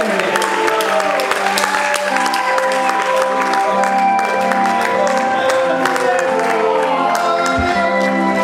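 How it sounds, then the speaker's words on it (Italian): Concert-goers clap and cheer for the drummer's birthday, dense applause with a few whoops layered over sustained instrumental tones from the stage, loud and close throughout. "un applauso a Fulvio."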